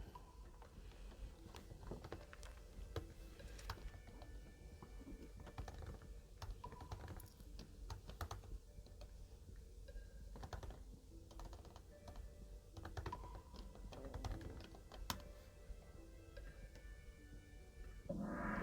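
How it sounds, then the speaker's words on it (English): Steady, fast typing on a computer keyboard, quiet and close, with irregular bursts of key clicks continuing throughout and no talking. "now type the following 3 lines out"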